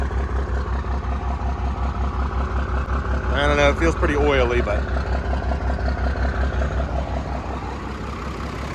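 A Dodge W350 with a 12-valve diesel engine, recently seized and flooded, runs at a steady loud idle with a rhythmic low knock throughout, while someone talks briefly over it.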